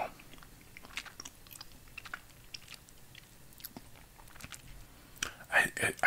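Soft chewing and crunching of a lime-flavoured retro candy, close and quiet, with a few louder bites toward the end, under low whispered talk.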